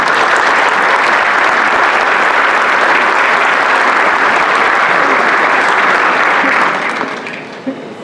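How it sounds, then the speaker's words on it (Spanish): Audience at a Mexican labour-justice reform conference giving a loud, sustained round of clapping that holds steady for about seven seconds, then fades out near the end. "vamos a darle un fuerte aplauso."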